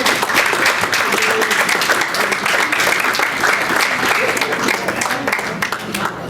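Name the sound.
audience applause for Jodie Cunningham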